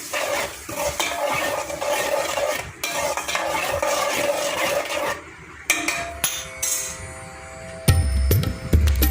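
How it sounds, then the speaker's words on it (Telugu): Tomato puree fries in oil in a pan while a spoon stirs it, giving a steady close sizzle with scraping strokes, then sharper clinks of utensil against the pan toward the end; no one talks. "టొమాటో ప్యూరీ అంతా వేసేసుకొని కొంచెం ఫ్రై అయ్యేంత వరకు వేయించుకోవాలి."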